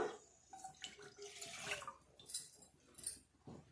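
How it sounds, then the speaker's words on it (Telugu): A glass of water is poured into a bowl set on a lit stove, giving faint, close splashing and trickling in short bursts with no talk. "ఒక గ్లాస్ నీళ్ళు పోసేస్తాం"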